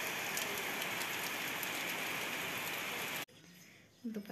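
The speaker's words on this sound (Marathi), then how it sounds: "खूप जोरात पाऊस आलाय" Heavy rain pours down outside a village house as a dense, loud, continuous hiss, heard through the doorway, before abruptly dropping to a quieter muffled patter.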